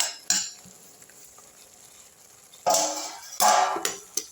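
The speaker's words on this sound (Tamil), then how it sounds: "அப்படியே நல்லா வதக்கி விட்ருங்க" Mushrooms with curry leaves sizzling in a hot pan with a low steady hiss, broken by a few sharp scrapes and clatters of a spoon stirring against the metal.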